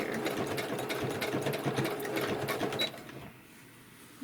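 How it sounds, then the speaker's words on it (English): Sewing machine back-stitching over earlier stitches on a washcloth soap saver pocket, a fast steady mechanical whir for about three seconds before stopping abruptly into quiet. "Now I'm going to go over the stitches I sewed before, just to act as a back stitching."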